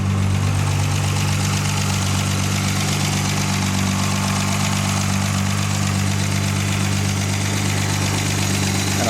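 A restored Austin Healey 100/6 engine runs at a steady idle, a smooth, even low hum that stays constant and close throughout with no talking.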